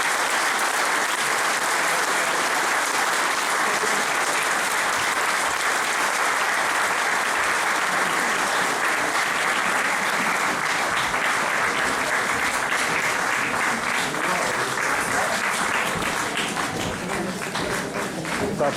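An audience at a municipal election campaign list presentation gives sustained, hearty applause, a dense and steady wash of clapping that continues unbroken for nearly twenty seconds at even volume.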